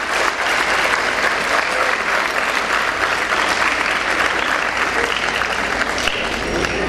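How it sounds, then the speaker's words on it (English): Dense, loud applause fills the hall at a dental sciences college graduation ceremony, an unbroken wall of many hands clapping at full strength throughout. "A round of applause to all those parents who are sitting here who have made it possible for you."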